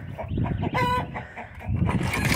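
A hen clucks close by in short, choppy bursts, with one higher squawk in the middle and a faint voice in the background.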